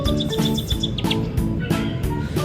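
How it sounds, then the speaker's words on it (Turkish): Repeated high, bright cartoon bird chirps in a steady rhythm over a busy, noisy background, fairly close. "Kuş seslerini duyuyor musun Mete?"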